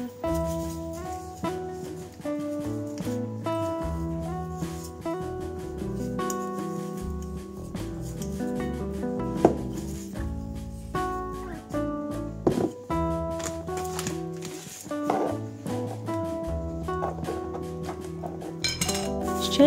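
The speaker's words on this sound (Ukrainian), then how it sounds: "якщо все гарно перемішати в одній баночці, то буде прекрасно" Spices being mixed together in a small jar, with repeated clinks and tapping of a spoon against glass, fairly close and continuous over background music.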